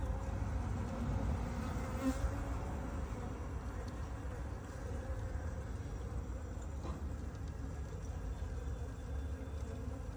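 A dense, steady buzzing of many honey bees swarming close around jars set on a hive, continuous and fairly loud with no talking.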